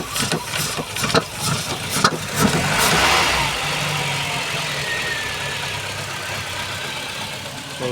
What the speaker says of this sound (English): So we got a decent idle on the map sensor plug back in.